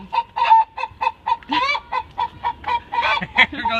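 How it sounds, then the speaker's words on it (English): A chicken clucks repeatedly in short, rhythmic bursts during a summer backyard honey harvest, close and fairly loud, with a few longer, rising squawks mixed in and no talk over it. "there goes our chicken."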